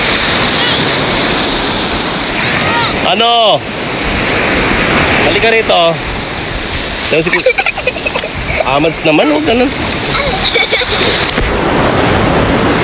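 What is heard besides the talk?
strong ocean waves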